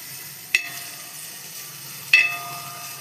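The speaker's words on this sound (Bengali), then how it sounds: "হালকা ভাজা হয়ে গেছে, এবার দিয়ে দেবো গাজর।" Carrots, capsicum and other vegetables fry gently over low gas in a pan for a chicken roll filling, a faint sizzle broken by two sharp clicks of stirring.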